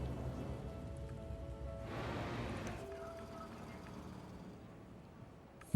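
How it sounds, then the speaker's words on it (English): Rain falls in the SimCity video game as a soft, faint continuous patter with a slightly louder stretch midway, alongside quiet steady game ambience and no speech. "All right, and a bit of a rain."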